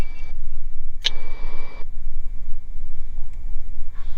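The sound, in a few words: Beechcraft Bonanza airplane engine throttled up for taxiing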